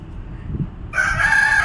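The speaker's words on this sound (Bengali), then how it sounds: "ও মা, তাই তো, মুরগি ডাকছে, মুরগি ডাকছে, মুরগি ডাকছে।" A rooster crows loudly and close by, a single sustained cock-a-doodle-doo that begins partway through, after a short stretch of low background rumble.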